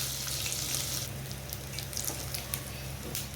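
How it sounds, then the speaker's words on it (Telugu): Tempering spices for pappu charu sizzle and crackle steadily in hot oil in a home kitchen, a continuous close frying hiss with small pops throughout. "ఈ పోపు వేగిన తర్వాత మనం పప్పుచారులో వేసుకోవాలండి"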